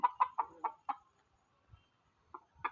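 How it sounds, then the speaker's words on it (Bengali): Village hens that have just been let out cluck in a quick series of short calls, then fall quiet before a few more clucks, fairly close and with no talk. "তো এখন আপাতত মুরগিগুলো ছেড়ে দিয়েছে।"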